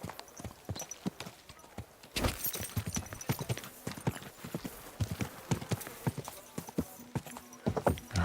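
Horse hooves in Kingdom Come: Deliverance II clopping in a quick, steady rhythm on hard ground, close and distinct, with some faint background noise between the strikes.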